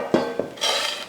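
Ground vada batter is mixed in a metal vessel with a spoon. Two sharp clinks ring out close together, followed by a short scraping, sloshing stir, with no one talking.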